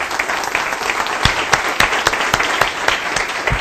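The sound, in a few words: audience applause after a talk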